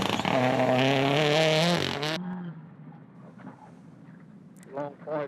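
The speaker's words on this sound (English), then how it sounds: "He's just used a handbrake to get around that corner." A rally car on a slippery gravel stage of the 2018 Lone Star Canterbury Rally in New Zealand, its engine loud and close with a sustained high rev, then cut off abruptly as it flicks around a corner, followed by quieter crunching and a brief engine burst.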